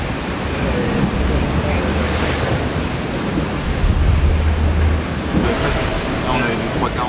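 Short, choppy sea waves wash and surge under strong, unstable gusting wind buffeting the microphone aboard the sailing yacht Spindrift, a steady loud roar with a faint voice partly buried.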